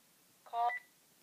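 A phone gives a single short electronic tone, like a keypad dial beep, clear against a quiet indoor background.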